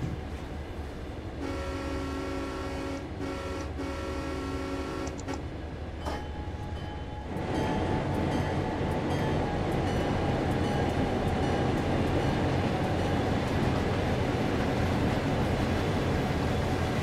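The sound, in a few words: freight train passing by in Train Sim video game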